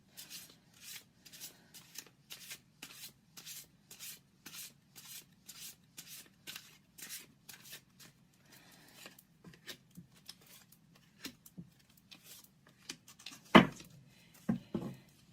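Tarot cards are shuffled repeatedly in quick, rhythmic riffling bursts, close and fairly quiet, ending with a few louder taps and handling sounds.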